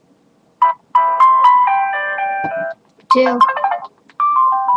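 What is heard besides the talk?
phone ringtones played one after another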